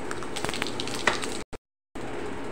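Torn bay leaves and whole cumin seeds dropped into hot oil for a Bengali boal fish curry with potatoes, a bright crackling sizzle that cuts out abruptly near the end before resuming.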